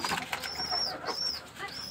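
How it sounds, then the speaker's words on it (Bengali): A pigeon coos softly in short rolling phrases at a rooftop coop, near and moderately faint, with light rustling and flutter around it. "এই কবুতরটা আমার কাছে অনেক ভালো লাগে"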